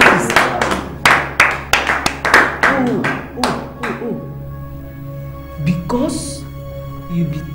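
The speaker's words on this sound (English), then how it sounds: "I'm gonna clap for you." A person clapping hands in a series of sharp, close, loud claps, several in quick rhythm, then fading into quieter sounds and a voice.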